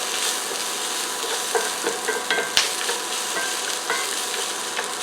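Corned beef hash with potatoes sizzles steadily in a pan while a utensil scrapes and stirs through it, with scattered clicks and one sharp knock against the pan, close and continuous.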